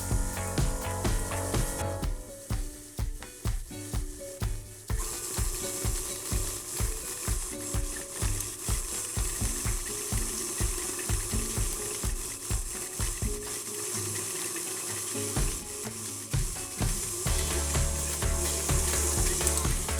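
Electric mixer beating sugar into coffee cake batter, giving a steady loud whirring motor hum with rhythmic rattling clatter of beaters against the bowl, continuous throughout without talk.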